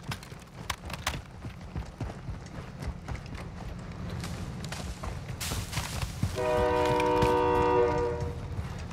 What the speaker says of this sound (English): we're gonna get hit by the train